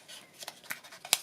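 Scissors trim the edge of a sheet of paper in a few short, crisp snips close by. The last cut is the sharpest and loudest, and no one speaks.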